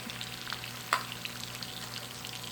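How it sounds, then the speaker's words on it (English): An egg cooking in butter in a pan gives a quiet, steady sizzle with one brief clink of a utensil near the start, heard close and without any talk. "I'm going to make my egg in some butter."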